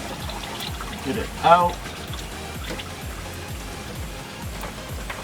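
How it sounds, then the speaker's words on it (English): Motor oil trickles from the drain of a 2004-2010 Ford F-150 with a 5.4L or 4.6L Triton V8, a steady faint liquid dribble throughout while a person speaks briefly. "There we go, the oil is dripping."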